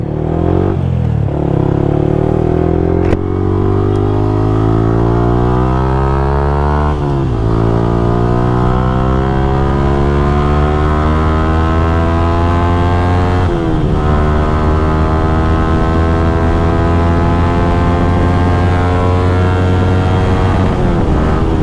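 Modified motorbike accelerating hard toward a top speed of about 100, its loud close engine note climbing steadily in pitch through several gear changes, with continuous wind roar and no talking.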